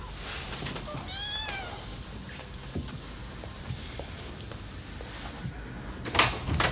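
A kitten meows once clearly with a rising, wavering cry, followed by quieter household clatter and a few soft knocks, with a brief sharper burst near the end.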